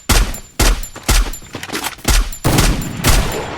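Rapid bursts of gunfire in a mobile battle royale game, about six loud sharp volleys in quick irregular succession, no talk.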